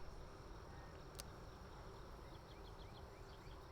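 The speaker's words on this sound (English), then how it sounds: "Bees on my chin now." Steady honeybee buzzing with a dense, constant hum close by during a beehive trap-out, quiet and continuous, with a faint brief click partway through.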